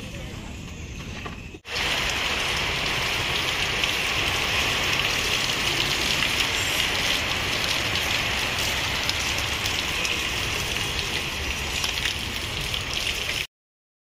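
Steady rain pours down outside a shop during Durga Puja festivities, a dense even hiss that begins abruptly after a short quiet moment and continues loud and unbroken to the end.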